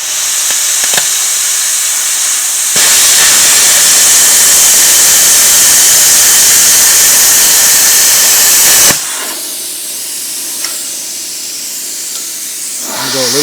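An Arccaptain CUT 50 plasma cutter slices through aluminum at 38 amps with air near 80, a loud steady hissing roar that starts abruptly, holds for about six seconds, then drops back to a quieter air hiss.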